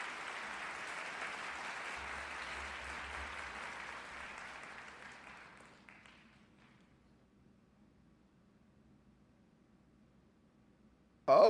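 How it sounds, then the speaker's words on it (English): Recorded applause plays over a live stream, a steady wash of crowd clapping that fades out around the halfway point into near silence, ending with a brief sharp thump. "We're letting this applause ride out."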